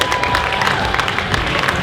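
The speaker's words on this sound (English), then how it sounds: "another round of applause for everybody that's been in the show and our three magnificent judges" An audience at a cosplay show at DreamHack Winter 2022 applauds with dense, loud clapping and some cheering throughout.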